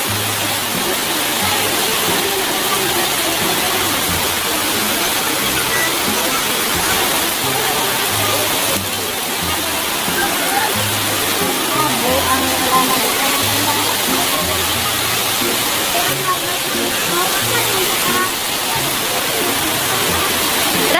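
Steady rain pouring outside a church, a dense even hiss with a watery, rushing texture that holds at constant loudness throughout, with no voices heard.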